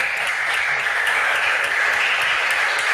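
A burst of applause from a group at a school quiz contest, steady clapping throughout at moderate volume.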